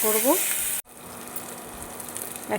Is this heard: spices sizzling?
yes